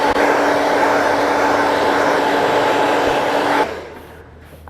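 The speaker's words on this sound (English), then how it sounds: "Here's our blow dryer, and we're going to go ahead and get started." A blow dryer runs steadily as it dries a man's razor-cut hair, a loud, constant whir holding for over three seconds before cutting off into near quiet.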